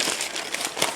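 Paper crinkles and crackles loudly up close for about a second as it is folded in on itself for packing a parcel of plants.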